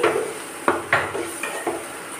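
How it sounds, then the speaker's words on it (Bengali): Green banana pieces are stirred into spices in a cooking pan, making a series of scraping, clattering strokes about every quarter second over a low sizzle, close and with no talking. "কাঁচকলাগুলো দিয়ে দিচ্ছি এর উপরে, দিয়ে একটু নাড়াচাড়া করে দিচ্ছি, মানে মশলাগুলো মিশিয়ে দিচ্ছি"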